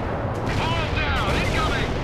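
A smoke missile launches in the World in Conflict war game, a whooshing roar amid continuous rumbling battlefield gunfire and blasts, dense and steady throughout.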